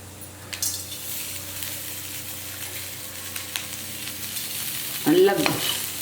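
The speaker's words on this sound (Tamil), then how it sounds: "வதங்கிட்டு இருக்கும்போது கொஞ்சோண்டு உப்பு," Ingredients sauté in a pan with rock salt for a fish curry. A constant frying hiss runs under occasional stirring scrapes, and a brief squeaky tonal sound rises near the end.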